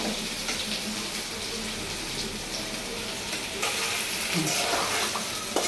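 Potatoes and eggplant fry in a pan at medium heat with a steady, dense sizzle that runs unbroken and grows slightly louder partway through, alone without talk.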